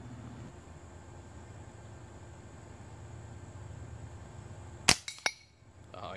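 Aguila .22 Super Colibri rounds fired from a rifle in a backyard: two quiet, sharp snaps close together near the end, after several seconds of steady outdoor background hiss.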